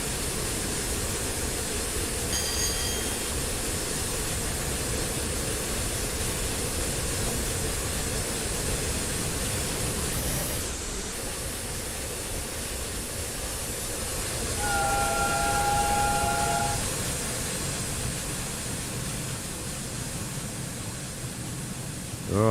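The Flying Scotsman steam locomotive in Train Simulator runs steadily, with a continuous loud hiss and rumble of steam and rails, a brief dip midway and a short whistle-like tone later.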